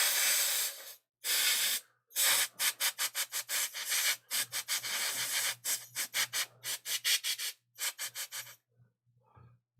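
Short bursts of contact cleaner spray hiss from an aerosol can, some long and some quick, in an uneven stuttering series that ends in a few faint spurts.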